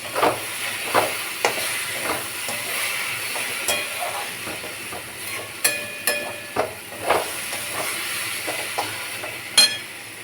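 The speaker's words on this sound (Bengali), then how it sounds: "ভাতও ফুটছে টকবক করে" Rice boils vigorously in a cooking pot on a home kitchen stove, giving a steady close hiss with irregular bubbling pops and soft clicks throughout.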